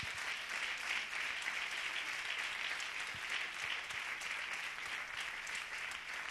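A church congregation claps loudly and steadily for the Lord during a Spanish-language sermon, a dense, sustained wash of applause filling the room with no break.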